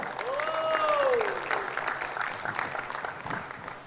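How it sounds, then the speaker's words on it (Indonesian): Applause from an audience at a leadership training event, a steady spread of clapping that swells early and then fades, with a sliding tone and some speech mixed in. "Tepuk tangan untuk Bu Claudia Ong."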